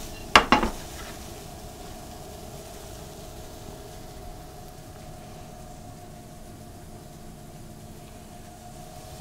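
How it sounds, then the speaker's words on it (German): Pine nuts toasting in a pan with fried cauliflower begin with a couple of sharp metallic clinks of utensil on pan, followed by a faint, steady low sizzle that carries on alone. "dann können wir jetzt auch schon die Pinienkerne hinzufügen. Die schön mit anrösten."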